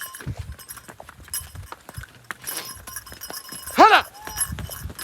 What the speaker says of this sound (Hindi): पानी के ऊपर घोड़ा दौड़ रहा है।